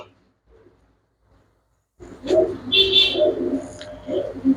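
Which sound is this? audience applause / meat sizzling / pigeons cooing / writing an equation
pigeons cooing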